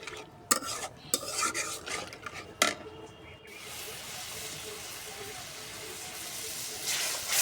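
Spice paste for a pangas fish curry being stir-fried, with a few scraping stirs of a utensil in the pan early on, then a steady, even sizzle and hiss for the rest.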